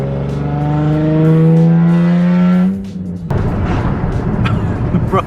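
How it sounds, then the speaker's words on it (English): Tires of a Nissan 350Z on newly fitted wheels rub against the body as the car turns, a loud harmonic groan with rising tone that cuts off and gives way to a rough scraping rumble, close and alone. "If I just try to turn the car a little bit, it's rubbing like crazy."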